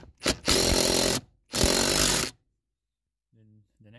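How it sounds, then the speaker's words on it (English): A power tool bolts down a shock absorber nut on a Mercedes GL, two loud sustained whirring bursts about a second each, followed by silence and a brief voice. "Make sure hand tight first, and then you just bolt it down."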